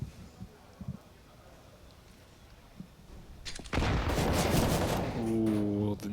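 Gunfire in a Counter-Strike match on the Overpass map with an AWP sniper in play: a few faint early shots, then a loud sustained burst of fire and blasts near the end, while commentators talk.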